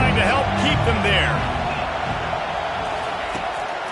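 A roaring stadium crowd in an American football video game keeps up a loud, steady wash of noise while a commentator talks over it.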